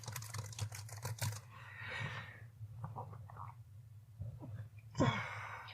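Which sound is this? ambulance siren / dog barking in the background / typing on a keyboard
typing on a keyboard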